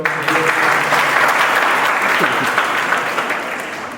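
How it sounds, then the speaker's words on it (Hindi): An audience at a career guidance seminar bursts into loud, dense applause that holds steady and then gradually tapers off, with faint voices underneath. "पहले तो तालियां बजाओ"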